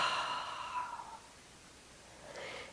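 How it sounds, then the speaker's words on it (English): A soft, breathy exhale through the mouth during a gentle yoga breathing exercise, close and quiet, lasting about a second and trailing off, followed by a faint second breath near the end. "Exhale through the mouth."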